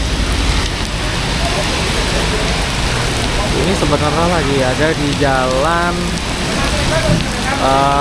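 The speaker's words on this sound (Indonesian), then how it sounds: "hujan deras banget sampai basah kuyup" Heavy rain pours onto a roadside in Cileungsi, a constant loud hiss of water that continues under someone talking.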